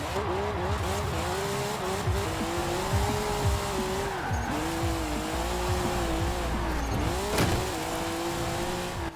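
A stock Formula Drift 2018 Nissan 370Z in Forza Horizon 4 revs its engine in a wavering, rising and falling drone while its rear tyres spin and squeal, loud and continuous, with no talking.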